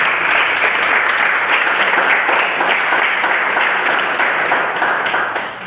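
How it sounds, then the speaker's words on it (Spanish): A church congregation in Cali bursts into loud, full applause that stays strong and steady throughout, with a few cheers, easing slightly at the very end. "Denle un fuerte aplauso al Señor."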